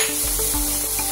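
Chilies and coriander leaves dropped into golden frying onions in a karahi for Peshawari chicken give a loud, steady hissing sizzle with faint low thumps beneath it.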